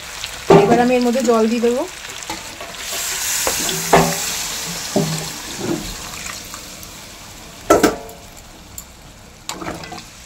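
Water poured into a pan of sizzling kosha mangsho, spiced meat, bursts into loud hissing and bubbling, followed by intermittent stirring scrapes and sputters as the cooking settles.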